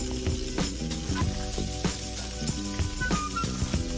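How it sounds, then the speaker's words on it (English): Garlic and onions sautéing in melted butter in a pan make a steady close sizzle, with a tonal hum and periodic clicks running beneath it. "get started with sauteing my garlic and onions"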